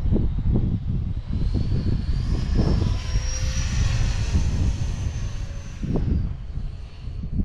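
A Depron foam model F-86 jet flies past, its high, steady engine whine swelling and fading as it sweeps overhead, loud and close, with no talking.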